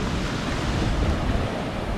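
Big waves crash and churn against a rocky shore in rough weather, a loud continuous roar of surf with wind buffeting the microphone and no voices.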